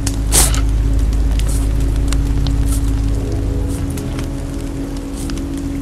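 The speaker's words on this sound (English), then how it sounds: "This rain will turn to sleet." Steady rain falls in a bleak outdoor scene from The Walking Dead video game, a continuous hiss with scattered drops and soft creaks, fairly loud and unbroken throughout.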